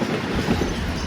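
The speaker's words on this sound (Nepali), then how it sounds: "यो सामान बोक्ने ट्रेन चाहिँ म अहिले खिचेर सक्दिनँ साथीहरू" A freight train rolls past up close, a loud continuous rumbling roar with wheel clatter filling the whole moment, no voices.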